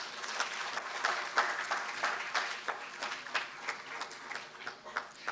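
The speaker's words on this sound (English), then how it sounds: "A huge round of applause, please." A conference audience claps for an arriving guest at a national intellectual property event, giving steady, moderately distant applause throughout with scattered louder claps.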